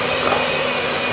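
An electric whisk beating butter in a bowl, a steady, loud, close motor whir that holds unchanged through the short moment with no break or voices.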